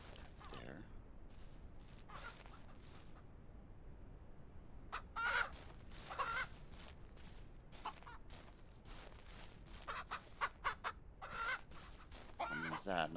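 Chickens and roosters on a farm in the Ranch Simulator Southwest video game, with repeated clucks and crowing calls scattered across the clip, some loud and close, over a dull background bed.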